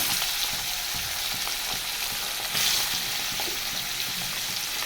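Bangur fish coated in a ground mustard, poppy seed, cumin, ginger and chilli paste fries in a pan, making a loud, steady, close sizzle that continues throughout, with faint stirring clicks and no talk.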